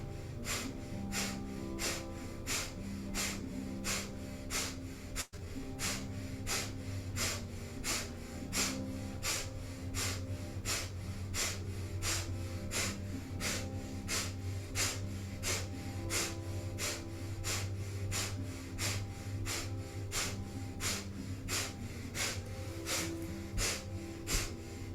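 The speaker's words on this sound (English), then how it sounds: "Powerful breath of fire." Rapid forceful breath of fire from a Kundalini yoga practice, a long even train of sharp nasal exhales pumping at a fast steady rhythm, close and alone over soft background music.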